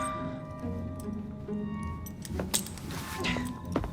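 Metal keys jingle and clink faintly in a short, quiet scuffle of handling from Assassin's Creed Syndicate, alone over a low background hum.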